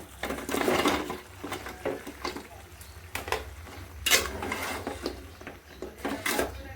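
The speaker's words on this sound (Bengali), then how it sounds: "আমার তরকারি কষানি হয়ে গেছে এখন আমি এই যে সবজি ঢেলে দিব" Chopped vegetables tipped into a pan of curry, with a run of clattering metal scrapes, stirring knocks and pan clinks over a low background hum; no voices.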